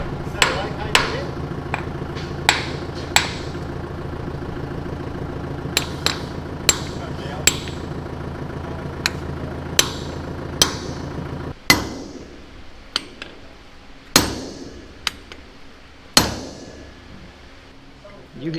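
Sharp metallic hammer blows strike a tractor final drive housing, a steady series of close, ringing impacts across a workshop hum, followed by a few slower, heavier strikes with ringing decay.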